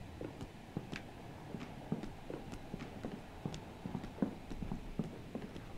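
Footsteps of an approaching enemy in the horror game Project Nightmares thud in an irregular walking rhythm, fairly faint and muffled, with no talk over them.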